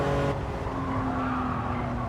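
A 1974 Lamborghini Countach brakes hard in Gran Turismo 7, its engine dropping to a steady droning hum with a faint tire scrub. The sound stays loud and continuous across the short stretch, with no talking.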